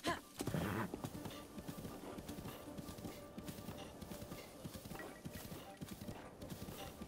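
Rhythmic clip-clop of horse hooves in Legend of Zelda: Breath of the Wild at a steady gallop, close and continuous, with a brief whinny near the start.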